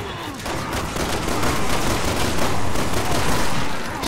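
Dense, continuous gunfire from the video game Resident Evil 6, a sustained loud barrage of overlapping shots with no clear gaps, filling the whole stretch without talk.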